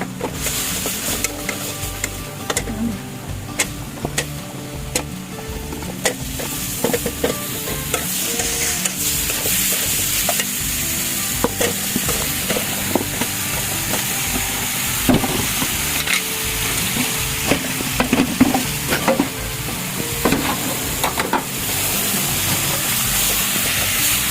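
Mango pickle with chili powder stirred and frying in a hot pan, a steady loud sizzle broken by repeated scraping stirs throughout, no voices.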